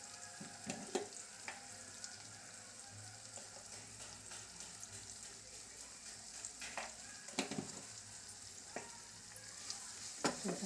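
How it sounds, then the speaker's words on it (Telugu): Vegetables with salt and turmeric fry quietly in a pan, a soft continuous sizzle under frequent stirring clicks and scrapes, faint and close. "కొంచెం వేగనివ్వాలండి ఉప్పు వేస్తామండి సరిపడ ఉప్పు"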